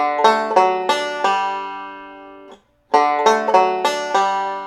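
Scruggs-style banjo roll through D played twice, each pass a run of bright picked notes with a brief silent gap between, close and clear with no talking.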